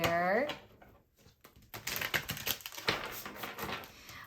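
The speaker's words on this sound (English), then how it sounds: "But while I'm shuffling," Tarot cards being shuffled by hand for a love reading, a run of quick papery riffles and soft clicks, close and moderately loud, following a brief stretch of talk at the start.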